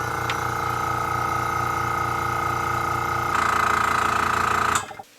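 A small airbrush compressor runs steadily, its motor hum and pulsing drone filling the tank, rising slightly in pitch as pressure builds before cutting off abruptly near the end.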